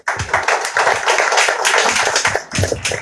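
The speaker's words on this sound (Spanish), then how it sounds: "Un fuerte aplauso" Applause at a press conference in a hotel casino welcoming a senator, a short burst of brisk clapping from a modest crowd, close and fairly loud, briefly thinning before picking up again.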